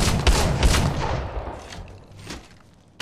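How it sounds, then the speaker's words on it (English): Rapid bursts of gunfire in the Apex Legends Mobile battle royale game, loud dense shots crowding the first second, then thinner scattered firing and booms trailing off, with another burst at the end. "Shots fired at me."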